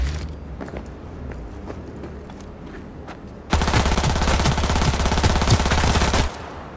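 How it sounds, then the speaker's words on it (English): Rapid automatic gunfire from the video game Cyberpunk 2077 erupts loud and dense for about three seconds, following a quieter stretch of scattered shots and shuffling game sounds. "Shooting me through the wall."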